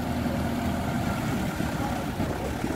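A heavy machine's engine idles steadily while it brings in sand to build up a new seawall, a continuous low rumble heard up close.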